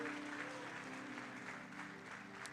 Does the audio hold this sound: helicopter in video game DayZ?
no